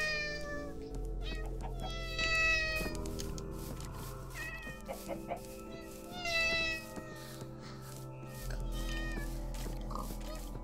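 A cat meows repeatedly in a room, several drawn-out, rising cries spread across the stretch, fairly close, with a low steady hum beneath and a person talking quietly at times.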